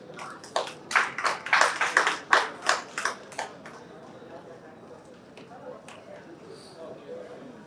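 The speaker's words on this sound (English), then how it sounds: "Please give a big round of applause, guys." Several sharp bursts of hand clapping from a conference audience in Bengaluru in the first few seconds, loud and close, then fading into quieter room noise with faint talk.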